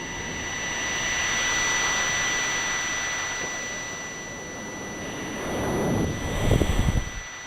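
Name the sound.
turtle sounding like a jet engine in Magic Knight Rayearth video game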